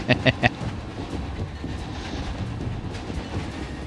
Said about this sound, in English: Oh, we're gonna get run over by the train.